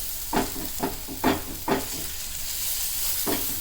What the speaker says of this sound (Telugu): మీడియం ఫ్లేమ్లో పెట్టుకొని ఓపిక్గా వేయించుకోవాలండి